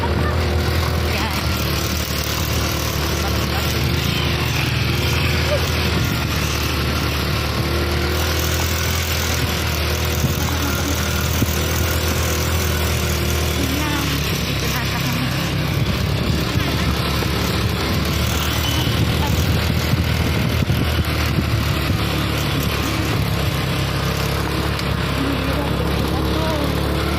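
Motorcycle engine running steadily during a ride in Bulacan, a constant droning hum under loud wind and ambient noise, with people talking over it.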